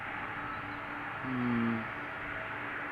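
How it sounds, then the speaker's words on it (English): A Boeing 747 taxiing at Amsterdam Schiphol Airport gives a steady distant engine drone with a brief whining tone swelling and fading over a low hum. "the 747 is taxiing towards the runway threshold"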